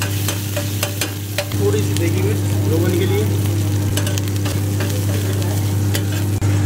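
Mutton curry with ginger and green chillies frying in a pan at a Delhi NCR food stall, a steady loud sizzle with scraping stirs and a constant low hum of equipment beneath, people talking faintly nearby.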